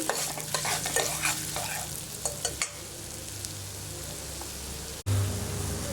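Lentils for sambar frying in a pan, a loud close sizzle with busy stirring scrapes in the first seconds, then a steadier crackle after a brief cutoff near the end.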